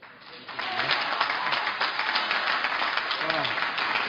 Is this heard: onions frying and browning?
no